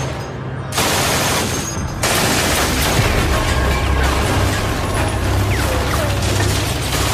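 Sustained, dense MG-42 machine gun fire roars almost continuously, the rapid shots blurring together into a loud, broadband rattle with a brief gap near the start.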